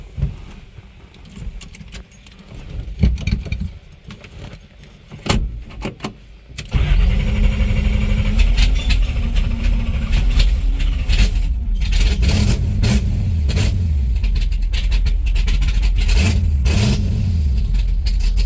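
Keys jangle and click, then a 1970 Chevelle wagon's powerful engine cranks and roars to life, settling into a loud, rough idle punctuated by throaty revs.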